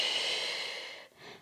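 Close, soft breathing during a side plank exercise: one long steady exhale that fades, then a short quick inhale.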